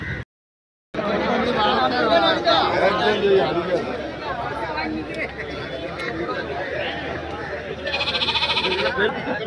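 Goats bleat repeatedly amid a busy crowd at the Anthiyur goat market, the calls rising over steady chatter and voices of traders nearby, with a louder burst of bleating near the end.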